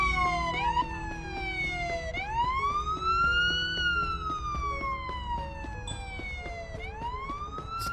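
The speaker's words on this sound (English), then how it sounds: "I don't want to sit there and listen to the sirens forever." Several police sirens in the video game Police Simulator: Patrol Officers wail together in overlapping rising and falling sweeps, steady and fairly loud over a low rumbling background.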